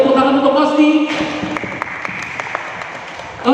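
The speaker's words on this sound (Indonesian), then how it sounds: "Sekali lagi tepuk tangan untuk Kosti" A small audience at Pos Bloc in Central Jakarta claps for Kosti, the Indonesian vintage bicycle community. A voice trails off at first, then scattered, fairly close handclaps follow.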